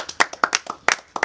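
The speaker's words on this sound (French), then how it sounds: "Applaudissez pour Yahweh." Hands clap in a church service, a short burst of sharp, irregular claps close by, loud and distinct.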